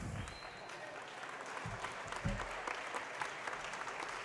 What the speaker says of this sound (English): And a nice round of applause for the ladies.